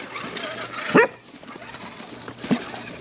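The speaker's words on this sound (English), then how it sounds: "Don't mind the background dog." A dog barks twice in the background, a sharp bark followed by a softer one, over quiet outdoor ambience while a rock-crawling RC trail rig is driven.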